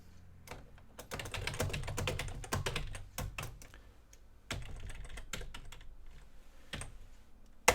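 Keys clatter on a computer keyboard in irregular bursts of quick taps with short pauses between them, close by and fairly quiet, with no voices.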